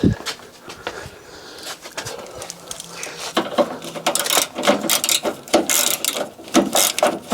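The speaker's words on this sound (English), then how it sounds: "I'll get all the bolts off that I can before I take the wheel off." Ratchet wrench clicking as it loosens wheel bolts on a crash-damaged Fiat 500, with bursts of rapid ratcheting and metallic knocks close by, growing busier in the second half; faint speech is present.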